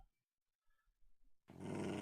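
A pet dog growls in the FTB New World Minecraft modpack, a short burst of low, rough, fairly loud growling that breaks in abruptly after a near-silent stretch of faint game sounds.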